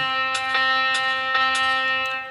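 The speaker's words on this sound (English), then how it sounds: "But for a half note triplet, which sounds like this" A half note triplet played on a pitched instrument: a sustained, rich tone with several soft, evenly spaced attacks, slow and unhurried, with no voice over it.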